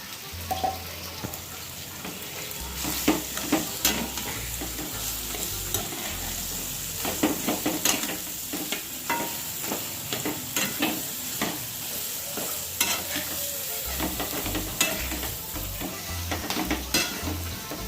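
Boiled potatoes are stirred into a pan of sizzling masala for paneer tomato curry, with steady frying crackle and repeated spoon scrapes against the pan, close and continuous.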